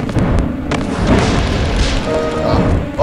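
A giant boulder crashes in the Xena Warrior Princess N64 game, a loud, heavy rumbling boom that rolls on for several seconds with sharp thuds near the start.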